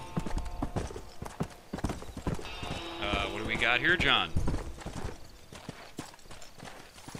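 Horse hooves clip-clopping in the video game Red Dead Redemption, a close, rhythmic run of hoofbeats under a man's speech, with a brief horse whinny or game tone in the middle.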